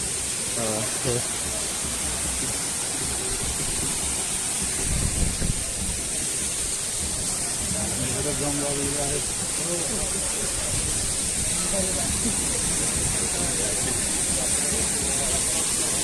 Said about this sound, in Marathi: पुढे धबधब्याचा आवाज येतो